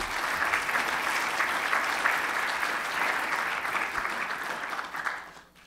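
An audience applauds steadily and fairly loudly as Congresswoman Jane Harman is welcomed to deliver a keynote at a 2005 conference on strategies for the war on terrorism, the clapping fading out at the end.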